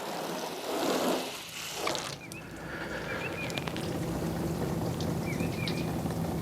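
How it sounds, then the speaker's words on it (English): Water poured and splashing over a clay-barred car hood, a steady broadband wash with a brief louder gush near the start, continuing without speech. "So let's get some water on there."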